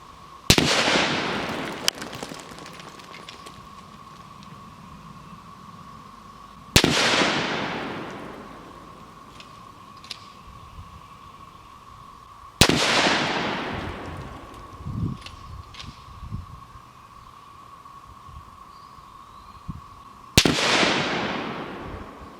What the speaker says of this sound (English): we shot a number of different groups